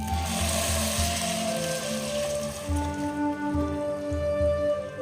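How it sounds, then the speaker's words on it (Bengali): Boiling water is poured into a pan of frying rice for khuder polao, producing a steady hissing sizzle with a low bubbling rumble beneath. "এবার আমি এখানে 2 কাপ চালের জন্য 4 কাপ জল ফুটিয়ে রেখেছিলাম, সেই জলটাকে আমি দিয়ে দিচ্ছি"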